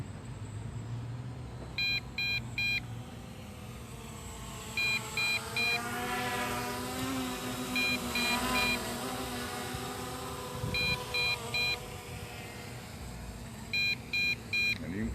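A JJRC toy drone emits repeated triple beeps in regular bursts every few seconds after its GPS is switched off, heard outdoors over a steady background hum and motor noise.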